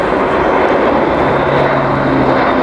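Airbus A400M turboprop military transport flying at the Farnborough airshow, a loud, steady, dense propeller and engine roar with no breaks or voices.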